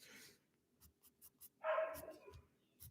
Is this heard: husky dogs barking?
yes